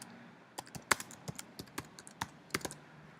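Light clicks of typing on a computer keyboard, a dozen or so irregular keystrokes tapped at a steady casual pace, close and quiet with no talking.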